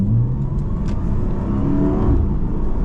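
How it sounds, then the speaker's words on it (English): A Porsche 718 GTS 4.0 engine revs steadily and loudly with sport exhaust on, its deep sporty exhaust note rumbling and droning throughout. "Big criticism was sound, which this car quite emphatically addresses. Yeah, sport exhaust is on."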